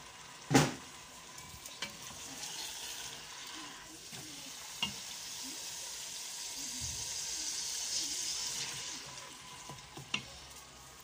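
Sweet potato leaves fry in palm oil with a soft, continuous sizzle, stirred now and then with a few sharp knocks of a utensil against the pot.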